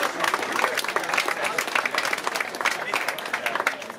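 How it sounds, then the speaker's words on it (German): An audience claps at a wine festival welcome on the Mosel, a dense, even patter of many hands sustained throughout at moderate distance. "Klatsch mal."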